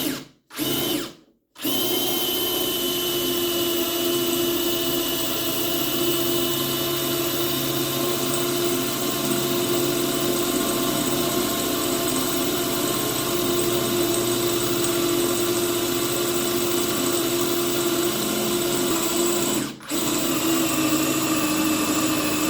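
Parkside PMBSA 4 A1 cordless drill boring into metal: a steady, loud high-pitched motor whine running continuously with a couple of brief stops near the start and one short dip near the end, no talking.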